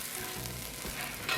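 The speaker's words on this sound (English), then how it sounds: "You get the garlic in there, get it stirred up, let that cook a little minute." Garlic sizzling in a gumbo pot of roux and vegetables while being stirred, a continuous close, bright frying hiss with soft scraping stir sounds and no talking.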